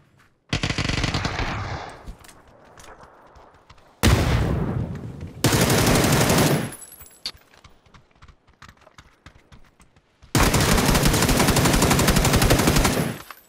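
Bursts of automatic gunfire in the PUBG battle royale game, several loud sustained volleys separated by quieter gaps with scattered single shots, no talking.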